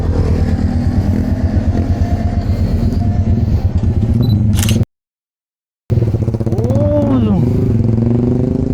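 A Motorstar Z2i motorcycle engine idles with a rapid, throbbing putter close by, cutting out briefly before resuming as a voice speaks over it.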